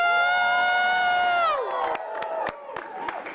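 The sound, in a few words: audience screaming and cheering with raised hands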